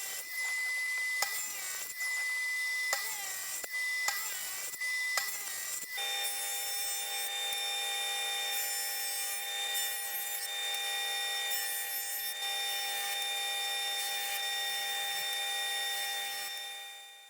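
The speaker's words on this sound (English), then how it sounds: "so I'll cut up the pieces of that and dress it" Reclaimed 1x4 hardwood is cut and dressed, short rasping strokes at first, then a continuous high machine whine with steady tonal ringing as the wood is worked.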